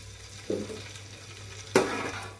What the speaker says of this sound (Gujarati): ઘી ગરમ થઈ ગયું છે તેમાં ગુંદ ઉમેરીને આપણે તળી લેશું